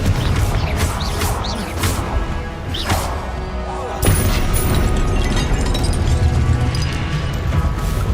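A Confringo fire spell explodes in the Hogwarts Legacy video game. Loud game combat plays with repeated booming blasts and crashes, and a heavy, sustained burst toward the end.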